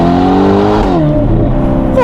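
A Novitec-tuned Ferrari Portofino M with 688 hp roars loudly up close, its exhaust holding a strong steady tone before the pitch drops as the throttle lifts, then a brief rasp.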